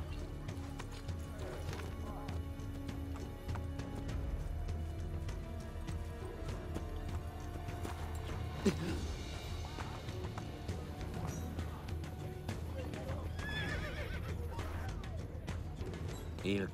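A horse in the video game Assassin's Creed Brotherhood runs with steady clip-clopping hooves and a neigh, under ongoing game ambience and spoken dialogue throughout.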